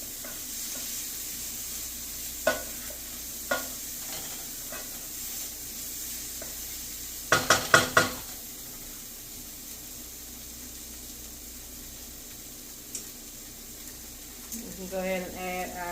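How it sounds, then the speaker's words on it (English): Curry butter bean mixture goes into a hot pan and sizzles steadily, with a brief flurry of scraping clatter partway through and a few soft knocks; the hiss stays moderate and close throughout. "Gently scrape it in the pan."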